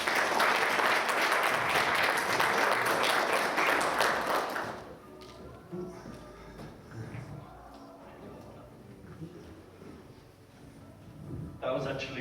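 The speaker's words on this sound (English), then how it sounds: "big round of applause for actually setting up that" An audience applauds at the end of a conference talk, and the sustained clapping fills the first few seconds. It then cuts off abruptly, giving way to quieter room sound and a person talking.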